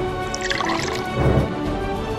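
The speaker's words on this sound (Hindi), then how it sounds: "एक गिलास पानी मिलेगा" Water pours into a drinking glass in a short, continuous trickle with a rising gurgle, close and clear, with no talking.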